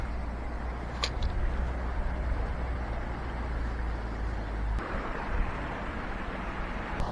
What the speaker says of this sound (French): Il y a un petit peu de vent, mais c'est pas grave.